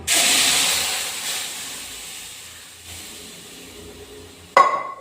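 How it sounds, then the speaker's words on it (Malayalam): Cooked chickpeas poured into a hot spiced pan, an immediate loud hissing sizzle that slowly fades, followed by a sharp clink of utensil at the end; no talking. "നമ്മൾ വേവിച്ച് വെച്ചിരുന്ന കടല അതിനകത്തോട്ട് ഒഴിച്ചു കൊടുത്തിട്ടുണ്ട്"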